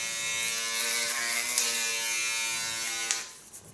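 A small electric hair clipper trims the eyebrow area, giving a steady, close, high buzzing drone that cuts off abruptly near the end.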